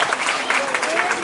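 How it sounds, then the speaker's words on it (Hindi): Crowd at a political rally claps in a dense, continuous burst of applause, loud and close throughout. "देखो ताली हल्की फुल्की मत बजाओ, बहुत अच्छे से बजाओ"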